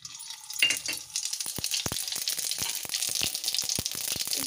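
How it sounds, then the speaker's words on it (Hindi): Mustard seeds crackle and pop in hot oil in an Indian kitchen, a steady run of sharp, close sizzling bursts and spits that begin a moment in and keep going throughout. "अब हम इसमें राई डालेंगे।"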